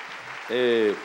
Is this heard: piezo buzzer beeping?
no